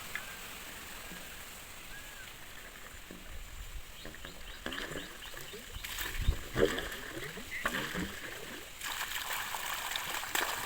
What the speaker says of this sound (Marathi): पाणी येत आहे पाईपातून मेथीच्या ओप्याला पाणी पाजण्यासाठी